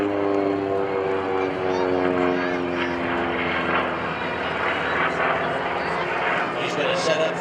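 An aerobatic airplane at a military open house airshow drones loudly overhead with a sustained propeller engine roar and shifting pitch, while an announcer talks over it.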